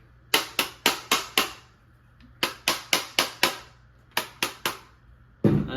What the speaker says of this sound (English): put the gun on safe and we'll hammer it again.